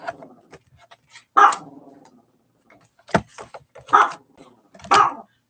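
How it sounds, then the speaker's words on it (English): A nearby dog barks repeatedly, about five sharp loud barks spaced irregularly with quieter snuffly sounds between, and no talking over them. "Stop it, dog. Just stop it."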